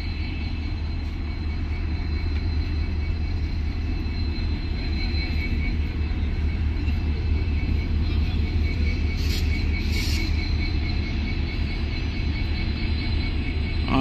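A locomotive approaches at a small station to be coupled to a passenger train, giving a steady, loud low rumble of rail and engine throughout, with faint brief high squeals near the end.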